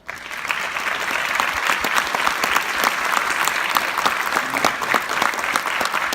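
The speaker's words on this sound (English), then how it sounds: "I think they deserve a round of applause." A school honor band audience of parents gives a sustained round of applause, dense and even clapping from a roomful of people lasting several seconds without speech.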